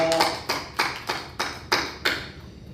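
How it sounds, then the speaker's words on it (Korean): Several sharp claps from a church congregation land at a steady, spaced rhythm, fairly close, with a faint voice at the very start. "우리 하나님께 영광의 박수를 올려드리겠습니다"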